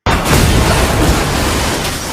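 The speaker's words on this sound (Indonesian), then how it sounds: "sebuah truk trailer menabrak mobil Pak Ko dan Pak Ko meninggal di tempat" A trailer truck slams into a car as a loud, dense crash-like boom that bursts in suddenly and roars on evenly before easing a little, with no voices.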